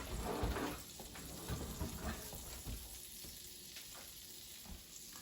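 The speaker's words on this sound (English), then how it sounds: "Let's put some butter in that pan." Butter sizzling in a frying pan over leftover browned bits from cooking sausage, a busy crackling hiss that is loudest at the start and settles into a steady fry.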